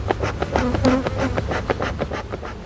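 Honeybees swarm and buzz loudly around an opened hive full of brood and drones, a dense, continuous hum of wings close by with no talk over it.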